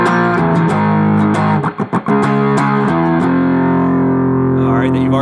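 Distorted electric guitar plays a song riff: loud, close chugging chords with short muted scratches in the middle, ending on a sustained ringing chord.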